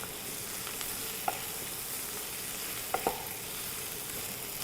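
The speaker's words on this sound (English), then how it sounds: "Let it fry up a little bit before you add the masala because it will burn quite fast" Mushrooms frying in a pan before masala goes in, a soft, even sizzle held throughout with a few light taps of a utensil against the pan, close and with no talking.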